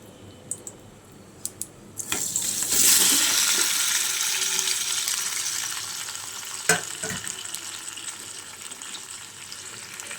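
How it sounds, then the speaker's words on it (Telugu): Tomatoes drop into hot oil with a sudden loud sizzle that then settles into steady frying, preceded by a few light clicks and interrupted by an occasional stirring clatter. "ఆయిల్ హీట్ అయ్యిందండి ఇప్పుడు మనం దీంట్లో టమాటోస్ యాడ్ చేసుకుందాం"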